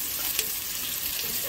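Bacon sizzles steadily in a frying pan, a close, continuous crackling hiss with no talking.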